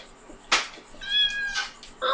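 A cat in the video game Kyo Oni meows a few times, short, clear and nearby, with quiet gaps between the calls.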